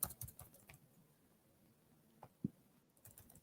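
Faint, scattered keystrokes on a computer keyboard, a few quick clusters of taps separated by quiet gaps, with no voices.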